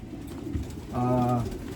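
A racing pigeon hen gives a single short coo, a harmonic call of about half a second, heard close up against a faint background murmur.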